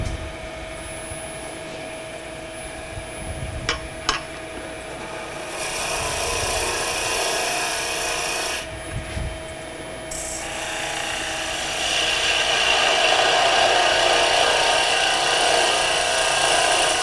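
A skew chisel scribes into spinning wood on a lathe while turning a miniature birdhouse, giving a steady close whirring hiss with scraping bursts and brief sharp ticks, growing louder and rougher toward the end.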